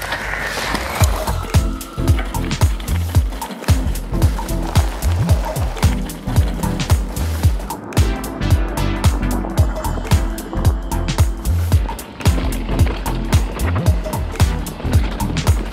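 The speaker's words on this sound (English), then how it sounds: "Shredding natural trails is where the 150 bike is really at home." An electric mountain bike with 150 mm suspension travel rattles down technical natural trails, a loud continuous stream of rapid knocks, chatter and tire rumble with wind noise throughout.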